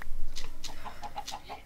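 A Minecraft chicken clucks in a rapid series of short, bright, repeated notes, fairly close and moderately loud, with no talking over it.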